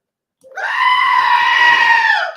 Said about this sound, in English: It's that goat, dude. It's that goddamn goat.